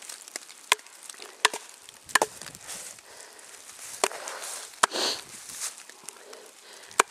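Survival knife without a hand guard, its cold blade driven through wood by striking its back, giving sharp isolated chopping cracks at irregular intervals amid faint outdoor rustle and footsteps.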